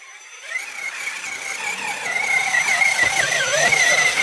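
A remote-control off-road car drives through mud and over rocks, its electric motor letting out a rising, wavering whine that revs up and down and grows louder and steadier toward the end.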